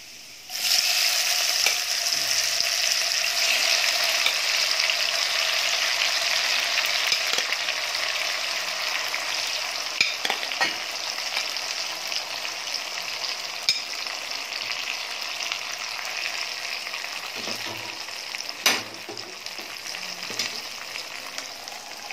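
Tomatoes frying in a hot pan for a sweet-and-sour tomato and jaggery chutney, giving a steady, loud broadband sizzle throughout with occasional scraping stirs and clicks, no talking.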